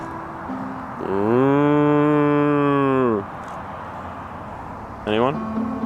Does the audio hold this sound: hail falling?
no